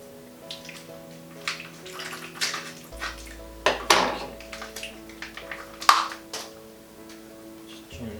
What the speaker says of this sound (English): you can straight away see the water just pouring out of there